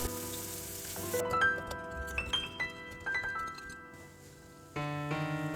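Eggplant is stir-fried in a pan with water added to the seasoning, giving a soft sizzle with intermittent scraping and stirring clinks close by, briefly louder near the end.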